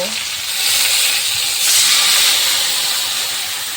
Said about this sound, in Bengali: এবার লঙ্কা গুঁড়ো শুকনো লঙ্কা একসঙ্গে মিক্স করে দেব